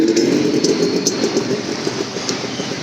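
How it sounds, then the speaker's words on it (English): A train passes beneath a railway bridge in Lonavala at night, giving a steady rumbling roar with faint rhythmic clicks from the wheels, heard from above and continuous throughout. "there's a train passing below. It's a railway bridge."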